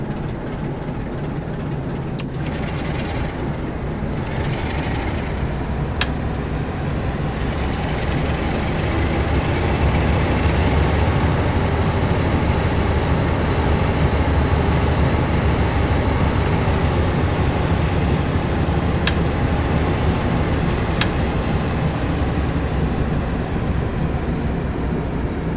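A Class 47 diesel electric locomotive runs with a continuous low engine drone and rail rumble, steady and close, with a few brief high-pitched squeals and hisses over the top.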